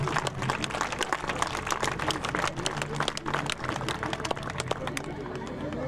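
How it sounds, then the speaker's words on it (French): Audience applause at a horse eventing prize ceremony in Saumur, quick crisp claps from a moderate-sized crowd outdoors, fairly distant and steady, with an announcer speaking over it. "Pour la deuxième place, là aussi avec vos applaudissements, bravo à Héloïse Le Guern et Campbell."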